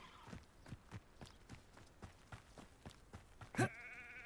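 Goat in the video game Hogwarts Legacy gives one loud, short bleat near the end, after a steady run of rhythmic hoof-like thuds and footsteps; no one speaks.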